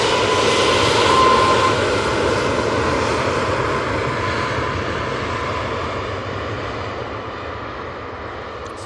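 Jet engines of an Emirates Airbus A380 idling during pushback at Manchester Airport: a steady, moderately loud whine and rumble with a thin tonal hum, slowly fading.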